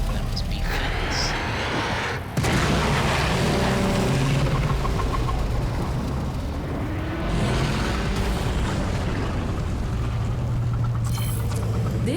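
An explosion in the sci-fi shooter Warframe brings a sharp cut and then a heavy, sustained rumbling roar that churns with deep engine-like tones. A second surge follows a few seconds later, and faint voices can be heard beneath it.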